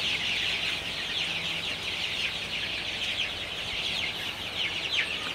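Chickens in a farm shed before a storm, clucking and chattering continuously at moderate level, many birds overlapping in a steady flock murmur.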